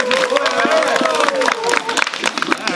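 An outdoor gathering audience applauds their club chairman, Park Jeong-hun, with sustained, dense clapping throughout, mixed with crowd murmur and voices.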